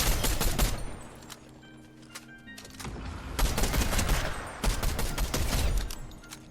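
Fortnite Zero Build gunfire in a field fight: rapid bursts of close, loud shots in clusters, with a quieter lull around the middle before heavy volleys resume, sometimes nearly continuous.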